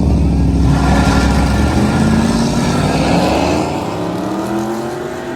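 A Ford F-150 and a cammed 1980s Chevy stepside pickup drag race, their engines roaring loud and close with rising revs, then easing as they pull away down the strip.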